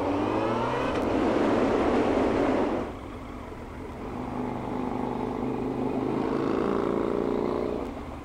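A loud, rackety car roars past close by, its engine noise swelling strongly for about three seconds, then easing to a lower rumble before building again as more traffic passes.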